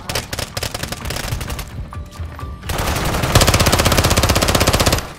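Loud, sustained automatic gunfire from Call of Duty: Warzone: rapid rattling bursts, a short lull, then a dense continuous volley of fast shots, close and harsh throughout.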